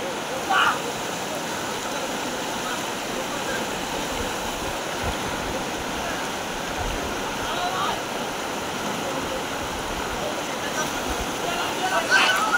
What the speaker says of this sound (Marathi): पाऊस नाही आणि पाण्याचा फ्लो जास्त आहे.